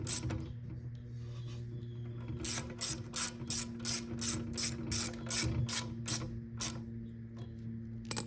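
A ratchet clicks in a quick, even series while a small bolt is tightened on a Honda engine, close by and moderately loud, with a low steady hum underneath and no speech.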